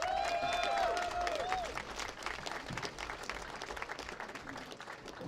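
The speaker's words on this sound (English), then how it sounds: "Let's give them all a round of applause." Crowd applause fills the space, steady clapping from many hands with a brief whistle-like tone near the start, gradually easing toward the end, at the 2025 Wisconsin High School Bowling Championships.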